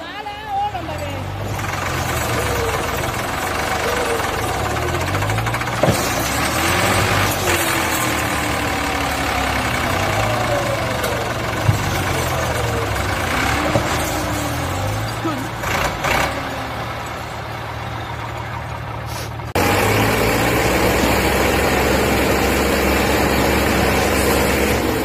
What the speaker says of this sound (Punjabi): ਭਾਈ ਜੀ ਟਰੈਕਟਰ ਕੱਢਣ ਲੱਗੇ ਆ